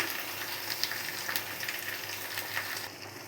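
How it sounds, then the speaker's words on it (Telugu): Tomatoes frying for curry in an oiled pan, a steady soft sizzle with faint stirring scrapes, quiet and continuous without speech. "ఇప్పుడు టమాటా వేసేస్తున్నాను ఇప్పుడు ఈ టమాటాలు మనం కలిపేసుకొని"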